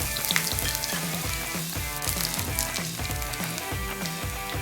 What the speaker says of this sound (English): Once the oil is heated up, I am adding in mustard seeds, and once the mustard seeds are popped, time to add in the ginger and garlic.